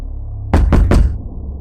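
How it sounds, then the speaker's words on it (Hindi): Three sharp, loud knocks on a door in the middle of the night, close and evenly spaced, with quiet before and after. "रात के 3:30 बजे अचानक किसी ने मेरा दरवाजा खटखटाया"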